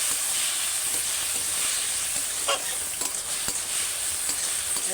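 Stirring greens with potato, eggplant and onion in a hot pan: a steady sizzle and hiss of frying, broken by faint scraping strokes of a spoon, with no voice over it.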